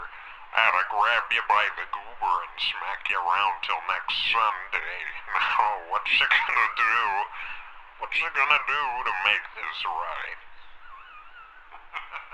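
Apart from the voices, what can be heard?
voice processed with flanger effect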